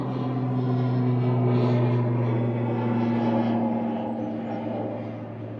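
An Aer Lingus Regional ATR 72-600 turboprop holds a steady, loud droning hum with strong sustained tones, fading slightly at the end.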